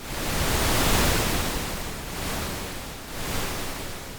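Stereo pink noise from the Zebra HZ synthesizer's noise oscillator hisses loud and continuous, a broad, dense rush that gently swells and dips like distant surf, with no voices.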